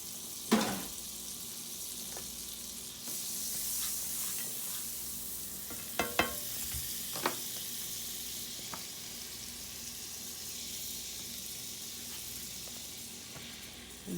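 Butter sizzling in a frying pan while breakfast sandwiches are made, a steady close crackle with a few sharp clinks of utensils against the pan.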